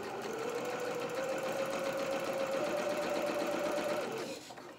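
A sewing machine stitches doll-sized trousers in a steady, fast whirring run that holds for several seconds before slowing and stopping, close and alone without talk.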